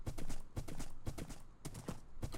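Minecraft horse hooves clip-clopping in a steady rhythm of five close, crisp strikes, each a sharp knock with a low thud, with no other sound.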